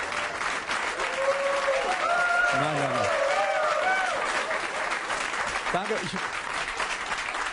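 Sustained applause from a comedy club audience, steady clapping throughout, with a voice speaking briefly over it.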